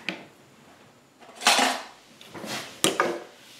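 A metal palette knife is picked up and handled, giving a few quick, close metallic clinks and scrapes separated by short quiet gaps.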